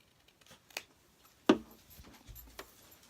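Scissors snip through the corners of a sewn fabric dog blanket, a few quiet, isolated cuts with one sharper snip in the middle, close by in a quiet room.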